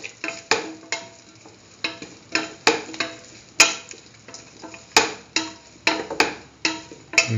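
A utensil stirring potato and broccoli marinated in mustard in a pan, with irregular scraping and clattering strokes roughly every half second, close and clear, with faint sizzling between them.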